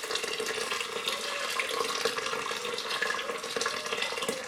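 Boiling water pours steadily into a pot, a continuous splashing stream at close range, with no talking.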